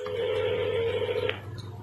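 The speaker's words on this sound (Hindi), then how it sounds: "उसने राकेश मीना को कॉल मिलाया।" A phone rings out while a call is being placed: one steady electronic tone holds for over a second, then cuts off, leaving a low hum.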